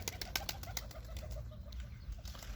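Young pigeons flutter and flap their wings nearby in a steady, busy rustle, with faint bird sounds mixed in.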